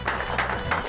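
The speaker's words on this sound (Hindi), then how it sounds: "बजाइए ताली" An audience claps on request in a crowded gathering, a short burst of dense, steady applause heard up close.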